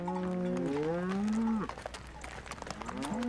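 Cattle on a South African farm near Kruger National Park low loudly in a long drawn-out call, followed by a second shorter moo, with some background activity and no talk.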